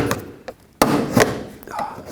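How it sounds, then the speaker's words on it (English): Sharp plastic pops as a trim tool pries stiff clips off the inner door panel of a 2007-2010 Chrysler Sebring, several close, loud snaps with quieter scraping between them. "I'm gonna sneak the tool behind here and just pop the clips off of the door panel."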